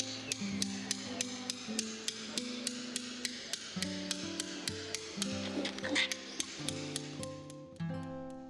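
A hammer drives a claw chisel (gradina) into stone to flatten a carved surface, giving a steady run of sharp, evenly spaced metallic strikes at close range, with music playing underneath throughout.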